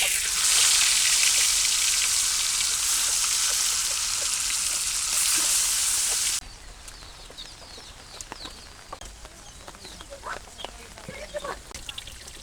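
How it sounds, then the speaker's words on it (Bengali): Fish frying in oil in a village kitchen during rain, heard as a loud, dense close sizzle for the first half, which then drops to a quieter crackle with scattered pops and light clatter. "এইবার বাইলে মাছগুলো ভাজি"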